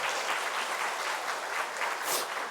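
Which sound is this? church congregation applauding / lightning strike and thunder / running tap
church congregation applauding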